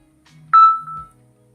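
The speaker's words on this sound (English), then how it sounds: "I apologize for the phone noise" A phone gives a short electronic beep: one bright tone that quickly fades, with low hum and a softer tone before and after, heard alone without talk.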